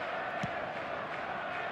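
Stadium crowd in the eFootball 2026 football video game, a steady broad roar of massed voices holding at an even level throughout, with a brief louder swell near the start.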